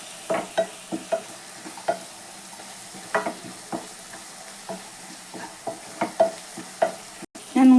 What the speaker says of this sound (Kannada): ಒಂದ್ಸಲ ಲೈಟಾಗಿ ಫ್ರೈ ಮಾಡ್ಕೊಳ್ಳಿ.